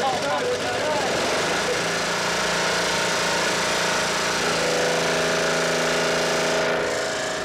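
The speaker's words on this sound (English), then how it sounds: "So electricity comes from a generator on the boat that's fired up when they want to start collecting fish." A generator on an electrofishing boat runs continuously, a loud steady mechanical drone that shifts slightly in tone partway through, with no clear break.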